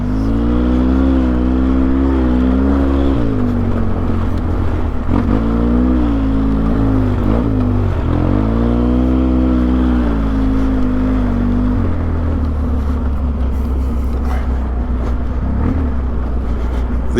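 A Polaris Sportsman 700 ATV engine drones loud and close while driving on trails, its pitch rising and falling with throttle changes and dropping into engine braking near the end.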